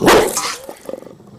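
A dog gives a loud, close bark followed by a few quieter yips and whimpers that trail off.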